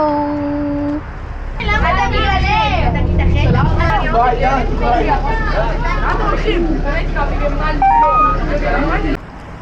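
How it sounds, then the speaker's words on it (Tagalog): City bus arriving and running, its low, steady engine rumble continuing beneath almost constant nearby talk and a few brief higher tones. "eto na yung bus na sasakyan ko papunta dun sa clinic"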